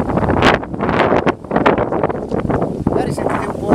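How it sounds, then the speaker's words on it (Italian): Strong wind on a high hilltop buffets the microphone in rough, loud gusts, a roaring rush that surges and dips without pause. "Magari sentite un po' di vento, perché oggi c'è parecchio vento"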